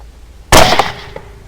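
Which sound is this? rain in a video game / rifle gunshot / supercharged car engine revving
rifle gunshot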